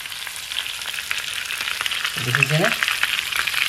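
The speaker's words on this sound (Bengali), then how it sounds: "একদম কম গ্যাসত ধুনিয়াকে ভাজি আসিল একদম মজাকে ভাজি আসিল" Chicken leg pieces fry in oil over a low flame, a soft, steady hiss of frying heard close by, with a voice speaking briefly near the end.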